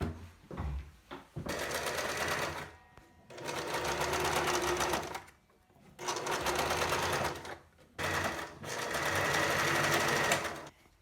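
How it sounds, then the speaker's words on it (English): A sewing machine stitches straight down a folded ribbon for an adjustable face mask, running in three long steady bursts separated by short pauses, close and fairly loud. "folding the ribbon in half and sewing directly down the line"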